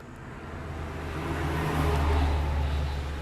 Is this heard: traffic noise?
yes